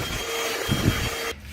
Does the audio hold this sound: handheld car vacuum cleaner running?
yes